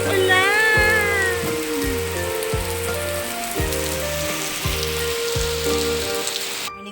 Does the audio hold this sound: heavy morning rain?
yes